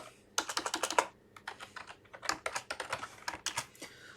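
Rapid clattering keystrokes on a computer keyboard, close and fairly loud, in bursts with short pauses, no voices.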